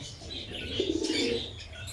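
Pigeons on a pigeon farm give a soft, low cooing run that swells in the middle of a short stretch, with faint chirps above and no talk.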